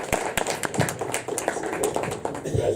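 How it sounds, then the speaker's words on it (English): Scattered applause breaks out at a boxing press conference after a title fight, individual claps sharp and close, loose and uneven rather than a full ovation, with faint murmuring in the room. "Round of applause for, you'll see him soon"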